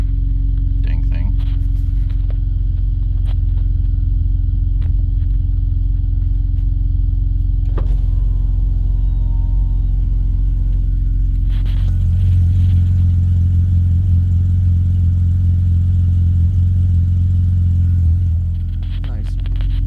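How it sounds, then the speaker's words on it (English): A BMW E36 fitted with a new muffler starts cold, its engine catching about two-thirds through and settling into a loud, deep, steady idle rumble after a steady mechanical hum; a person talks over it. "Nice cold start."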